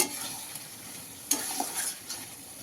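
Meat and tomato are stirred in a hot pan, with scraping, clattering strokes of a spoon over a soft, steady sizzle.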